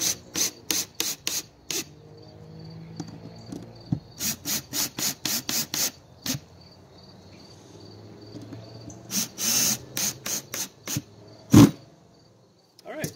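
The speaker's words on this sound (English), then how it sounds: "we're just gonna put some pressure on and pop these screws in" A screwdriver drives screws into wood for a traditional buckler braced against vise blocks, heard as short repeated rasping bursts in clusters with quiet gaps, close and moderately faint.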